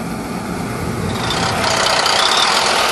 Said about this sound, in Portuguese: This 16-liter engine puts out 625 horsepower